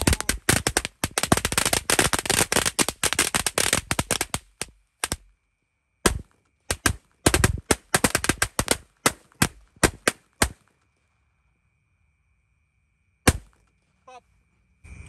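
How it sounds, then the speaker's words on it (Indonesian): Matchstick firecrackers (mercon korek) set off outdoors at night crack in a rapid, dense burst of sharp pops, then continue in scattered clusters and isolated bangs with silent gaps between them. "Selanjutnya ini kita nyalakan semua jenis mercon korek yang sudah kita susun."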